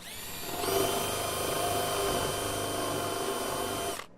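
A power drill cuts a slight countersink into wood, a close steady whirring spin that ramps up, holds level for about three seconds, then winds down.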